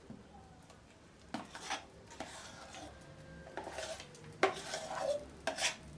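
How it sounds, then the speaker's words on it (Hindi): Ground dal added to a pan on a low gas flame and stirred for puran poli, with scraping and clinking of a spoon against metal in irregular bursts, fairly quiet and with no talking. "और अब जो दाल है पिसी हुई वो पूरी इसमें डाल दूंगी मैं।"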